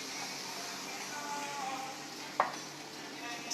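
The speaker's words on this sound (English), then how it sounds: "I'm adding in 2 tablespoons of soy sauce." Soy sauce sizzles steadily in a hot pan as ramen noodles are stirred, with a brief clatter of a utensil partway through and no talking.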